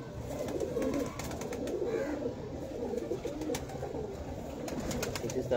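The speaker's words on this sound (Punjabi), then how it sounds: "ਬੜਾ ਲਾਜਵਾਬ ਕਬੂਤਰ ਹੈ" Fancy pigeons on a rooftop coo in low, repeated murmurs against a steady outdoor background, with a few faint chirps and no talk.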